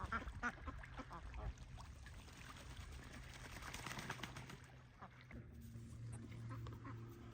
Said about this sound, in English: The ducks are pretty rowdy, hey? Pretty rowdy.